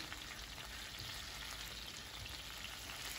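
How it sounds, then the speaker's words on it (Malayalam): Marinated chicken pieces fry in a pan over a medium flame, giving a steady, close hiss and crackle of sizzling oil that runs unbroken and alone. "മാരിനേറ്റ് ചെയ്ത് വെച്ച ചിക്കൻ്റെ കഷ്ണങ്ങൾ ഇട്ടിട്ട് ഫ്രൈ ചെയ്യാം മീഡിയം ഫ്ലെയിമിൽ വെച്ചിട്ട് ചിക്കൻ ഫ്രൈ ചെയ്യാം"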